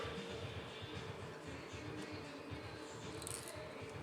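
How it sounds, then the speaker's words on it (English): Scissors snip craft foam a little over a quarter inch wide into a tapered end while tying a cicada fly, a steady close crunching and rustling with faint scattered clicks and no talk. "And again, I cut the end into a taper"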